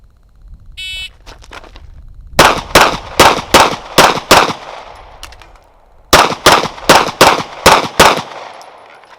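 Two strings of loud, close gunfire from an El Presidente competition drill with a G45 pistol and AR15 rifle, six rapid evenly spaced shots, a pause for a speed reload, then six more, outdoors with no talking.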